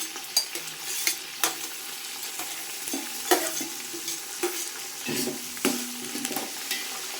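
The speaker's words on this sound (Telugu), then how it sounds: "టమాటాలు వేసేస్తున్నాను, టమాటాలతో పాటు కరివేపాకు కూడా." Tomatoes and curry leaves hit hot oil in a pan for pulao, giving a steady sizzle with spoon scrapes and clicks against the pan at intervals throughout, close and moderately loud with no voices.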